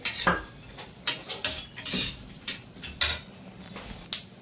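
Coconut roasting in a little oil in a pan, heard mostly as repeated sharp scrapes and clinks of a spoon against the pan, irregular and close, with no talking.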